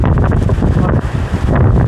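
Strong gusts roar across a mountain ridge on Duryunsan in Haenam, a loud, close buffeting rush that hits the microphone hard. The gusts dip briefly in the middle and then build again.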